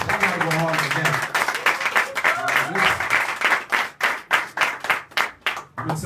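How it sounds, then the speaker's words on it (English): An audience claps in a talk-show setting, dense applause that thins into separate hand claps toward the end, with voices mixed in. "So let's give Mr. Sinclair Skinner a warm round of applause"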